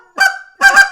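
Game call imitating a turkey, with a short sharp cluck followed by a rapid double cluck, loud and close in a quick two-part sequence.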